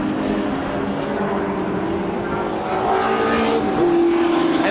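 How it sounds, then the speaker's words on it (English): Race cars at Brands Hatch, including a turbocharged Mazda RX8 spitting flames and a white BMW, roar past in a loud, continuous engine drone with rising pitch and revving near the end. "The yellow Mazda spitting fire out and the white BMW there."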